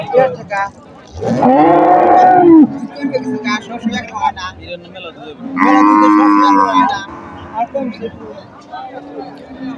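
A cow at a weekly village cattle market gives two long, loud, close moos a few seconds apart, with someone talking between them.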